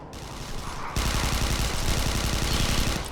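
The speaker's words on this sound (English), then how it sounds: "Tried with burst fire." Rapid burst-fire gunfire in the sci-fi shooter Interstellar Marines, loud and close, starting about a second in as dense repeated shots over a steady ambient background.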